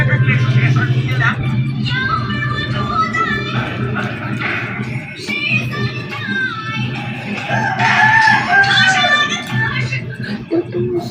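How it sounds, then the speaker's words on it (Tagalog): Chickens and a rooster at a house crow and cluck loudly and close by, with overlapping calls throughout and a faint vehicle rumble underneath. "daming manok sa bahay namin. Maingay."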